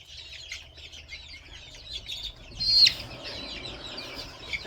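Backyard chicken flock heard at a distance, soft scattered clucks and chirpy calls, quiet with a louder cluck near the middle, over low background hum.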